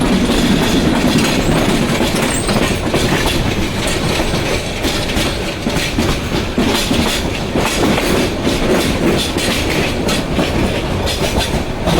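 The Upaban Express night train from Dhaka to Sylhet rumbles steadily from inside, with loud continuous wheel noise and rhythmic clickety-clack of the carriages on the rails.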